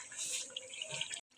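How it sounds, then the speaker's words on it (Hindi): Water poured into frying masala for sarson ka saag hisses and splashes steadily at close range, then cuts off abruptly near the end, with no talking. "अब मैं इसके अंदर थोड़ा सा पानी शामिल कर रही हूँ ताकि जो मैंने मसाले शामिल करने हैं वो ना जलें"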